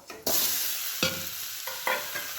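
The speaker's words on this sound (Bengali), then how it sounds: "এখানে এবার অল্প তেল দিয়ে এই টকটা বসাবো" A sour vegetable dish set in a little hot oil in a pan after frying potatoes, stirred: a close sizzle with several sharp stirring scrapes and bursts of spattering, no voices.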